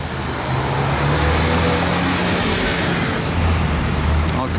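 A 700 VS supercar approaching and driving past on a city street, a loud, steady engine roar that swells and holds over constant traffic noise.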